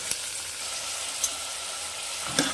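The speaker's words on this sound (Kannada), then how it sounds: "ಇದನ್ನು ಸ್ವಲ್ಪ ಚೆನ್ನಾಗಿ ಫ್ರೈ ಮಾಡ್ಕೊಳ್ಳೋಣ" Steady frying sizzle from a pan of chickpeas and potatoes, with a few brief clinks of stirring, no voices.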